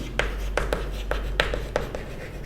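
Marker or chalk writing on a classroom board, a series of quick close scratchy strokes in an irregular rhythm, about a dozen in a couple of seconds, over a low steady hum.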